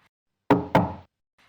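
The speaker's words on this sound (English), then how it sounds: "One evening, there was a knock on the shoemaker's door." Two firm knocks strike a wooden door in quick succession, close and clear, with quiet before and after.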